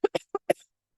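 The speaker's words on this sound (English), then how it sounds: "Excuse me, I'm going to cough." A person coughs four times in quick succession, close and fairly loud, the short dry bursts ending in a faint trailing breath before silence.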